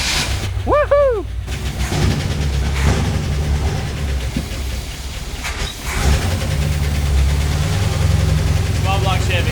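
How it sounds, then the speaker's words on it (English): A long-dormant small block Chevy engine running in a garage, a loud, rough, steady rumble with uneven knocks, close by, while people talk and shout over it. "Small block Chevy."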